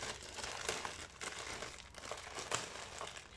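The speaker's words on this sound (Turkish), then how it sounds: "Şimdi paketimi hemen açıyorum." A package of Bakugan nostalgia cards is torn open by hand, its plastic wrapper crinkling and crackling steadily at close range, with sharper rustling bursts throughout and no talking.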